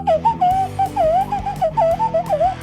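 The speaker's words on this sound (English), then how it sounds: "I got to play the whistle" A toy-like whistle blown in a steady run of short, warbling pitched blasts with brief gaps between them, close and fairly loud, with no one speaking.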